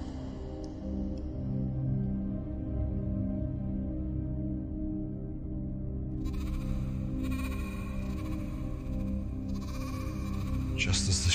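Sheep bleat amid a dense, droning layered backdrop, their calls wavering over a steady low rumble.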